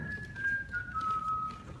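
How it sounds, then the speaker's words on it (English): A single person whistles a short melody: the opening four notes of the Christmas carol Joy to the World, steady and clear, alone with only faint room noise behind it. "have your students whistle the first 4 notes of Joy to the World"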